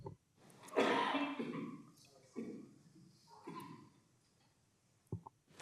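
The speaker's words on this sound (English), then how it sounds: "I'm going to have to cough again" Several throaty coughs from a person at a council committee meeting, including one strong burst and shorter ones after it, close and fairly loud, with brief pauses between them.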